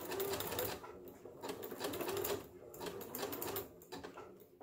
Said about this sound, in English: Then I will back stitch until I come up in line with where I want to